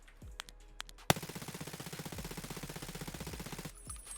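A submachine gun in a video game fires a long, rapid automatic burst with high-recoil ammunition, evenly spaced crisp shots following a few isolated clicks and a sharp opening report, then stopping abruptly.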